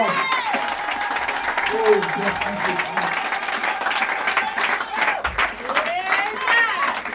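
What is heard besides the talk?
church congregation applauding and cheering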